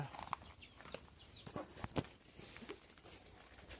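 Chickens, including two newly bought hens, cluck in short, scattered bursts against a quiet outdoor backdrop, faint and somewhat distant.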